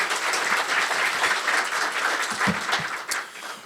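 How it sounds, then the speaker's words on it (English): Chamber of commerce luncheon audience gives a steady round of applause, a dense wash of many hands clapping at moderate volume for a few seconds, with a few sharper individual claps standing out. "Let's give them a round of applause."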